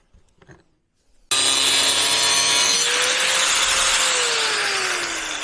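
An angle grinder cuts metal during an antique restoration: after a brief quiet start, a loud, continuous abrasive screech and whine runs steadily to the end with a slowly falling tone, close and alone with no talking.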